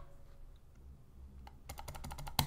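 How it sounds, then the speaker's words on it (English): A rapid run of sharp, close clicks comes near the end of a quiet stretch, a few faint taps before it, from a computer mouse clicked while playing GTA Vice City. "I'm sure you can hear, I'm trying to click, but nothing happens"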